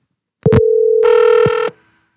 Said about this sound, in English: It's currently ringing.